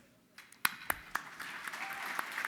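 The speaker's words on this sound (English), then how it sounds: "They're clapping along there." Luncheon audience at a Hispanic advisory council event clapping along, starting with a few sharp, separate claps and building into steady, fainter rhythmic clapping heard from a distance.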